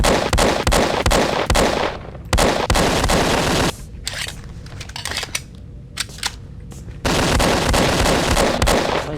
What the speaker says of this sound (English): They do empty a lot of bullets into you.